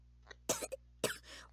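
A female character in the BlazBlue Continuum Shift Extend fighting game coughs in two harsh, close bursts with a few softer throat sounds around them, over a quiet background.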